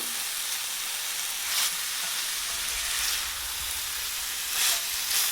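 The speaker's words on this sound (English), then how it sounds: "While this sizzles, sautes and grills" Chicken sizzling and sautéing in a hot skillet for a sweet lime and thyme dish, a steady close frying hiss with a few louder surges, no talking.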